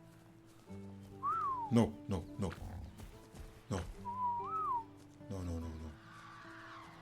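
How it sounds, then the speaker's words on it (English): In the game Ark, a player character gives two short rising-and-falling whistles amid sweeping game sound effects and low ambient tones, with a person speaking briefly. "I did not mean to whistle anybody."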